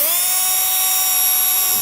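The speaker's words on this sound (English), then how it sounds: "just repeat the same process of drilling the pilot hole for the remaining holes" A dental-drill-like power drill whines steadily and loudly while boring pilot holes for B&W 5th wheel hitch base rails on a 2016 GMC truck, a continuous high-pitched tone with no pauses and no voices.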